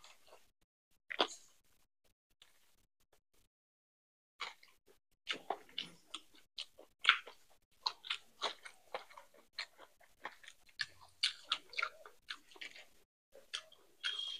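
Crunchy chewing and biting on deviled egg, a run of close, irregular crisp bites and munches that start sparse, then grow steady and dense, with no talk over them.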